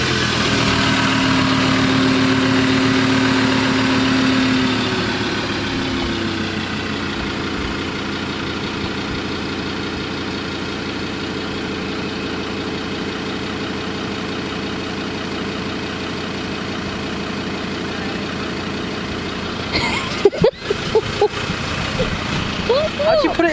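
A Ford Ranger DV8 Edition pickup idling steadily at close range, a constant low engine hum throughout with a brief tonal whine early on, followed by a few clicks and knocks near the end.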